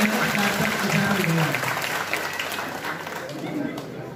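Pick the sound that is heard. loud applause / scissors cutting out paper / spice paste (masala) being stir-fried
loud applause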